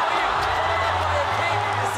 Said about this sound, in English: This is the noisiest crowd I've experienced at a one championship event, and they are absolutely loving this.